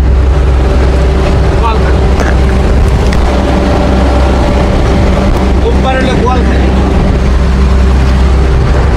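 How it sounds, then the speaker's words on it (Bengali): A ferry crosses the Karnaphuli river with a constant loud low engine drone, heavy wind rumble on the microphone and water rushing alongside, while people speak faintly over the noise. "ফেরি পার থেকে ওই পারে নিয়ে যাচ্ছি আমরা"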